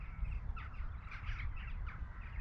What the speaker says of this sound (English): Hopefully you can hear the sound of the gulls.